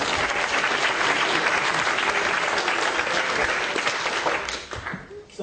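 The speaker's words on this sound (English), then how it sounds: "Give yourself a clap." Audience members at a memory-techniques workshop clap together in a steady, fairly loud burst that thins and trails off in the final second.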